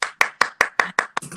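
Seven crisp, evenly spaced hand claps in quick steady rhythm, close and clear, forming a short burst of applause with no talking.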